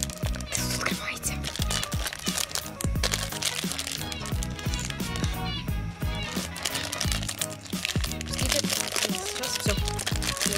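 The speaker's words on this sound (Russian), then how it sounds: "И сейчас мы его распакуем." Plastic packaging is crinkled and torn open to unwrap a toy fidget spinner, giving close, busy crackling and crunching under ongoing talk.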